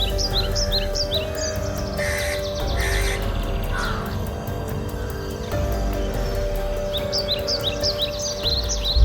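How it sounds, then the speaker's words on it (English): Birds call in bursts near a mangrove forest on Henry's Island by shallow fish-farming lakes, with repeated harsh crow-like caws in clusters over a steady background hum. "A flock of birds suddenly appears as they run off in search of food."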